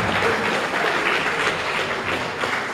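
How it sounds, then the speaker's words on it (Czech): Warm applause from an audience at an accordion players' gathering, a dense steady clatter of many hands clapping for a few seconds without voices. "Děkuji za potlesk."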